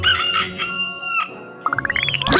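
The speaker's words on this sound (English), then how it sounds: "R is for rooster." Rooster crowing, a full cock-a-doodle-doo call followed by a quick run of rising clucks, close and clear with no talking.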